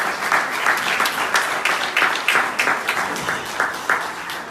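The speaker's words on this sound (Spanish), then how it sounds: "Dar un aplauso al Señor porque Él es bueno." A church congregation applauds together, a dense wash of many hands clapping with a loose rhythmic pulse that swells and ebbs, close and steady throughout.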